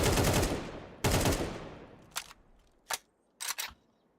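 Automatic gunfire in a competitive shooter video game match: two long loud sprays of rapid fire, then several short bursts trailing off, with no voices over it.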